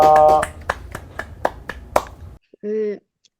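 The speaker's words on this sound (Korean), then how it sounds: "우리 박수로 환영하겠습니다" A small audience at a religious-dialogue symposium on Laozi welcomes a presenter with a handful of sharp, separate hand claps in an uneven rhythm, close and clear, then silence and a brief tonal beep.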